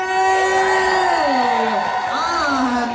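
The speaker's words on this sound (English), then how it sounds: "make some noise for the incredible Lawrence Cheney!" An audience at a drag awards show in Glasgow cheers and whoops loudly, sustained shouts and yells layered over a dense crowd roar for the whole stretch.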